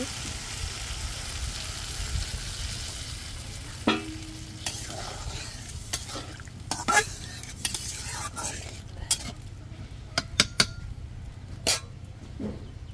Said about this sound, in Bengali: এই তো আমার তরকারিটা ফুটে উঠছে